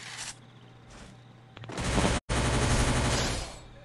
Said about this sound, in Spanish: yo le disparé como 20 veces